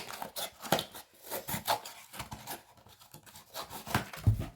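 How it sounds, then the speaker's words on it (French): Scissors snip through a product label in a run of quick, close crisp cuts with faint papery rustle and scratching between them, no talk. "Et maintenant, je peux bien couper l'étiquette comme ça."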